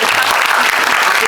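Loud, dense audience applause filling a cinema auditorium during a film screening talk event, steady and close throughout.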